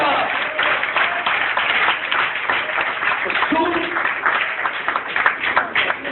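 A church congregation applauds, sustained dense clapping from a crowd mixed with shouting voices, filling the whole stretch at a steady level.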